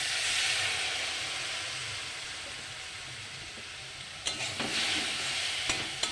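Spice paste with ginger paste and water sizzles steadily in a hot pan for a fish dish, with a constant hiss. Near the end, a few louder scrapes come from stirring.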